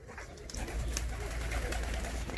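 Arab roller pigeons in a coop coo softly and continuously, with low murmuring calls layered over steady background noise for a couple of seconds.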